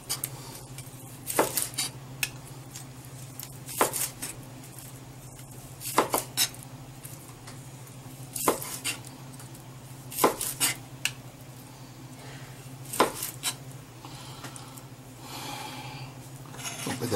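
A knife slices smoked picanha on a board, with sharp clacks of blade against wood recurring every two seconds or so, close and moderately loud over a low steady hum and soft breathing.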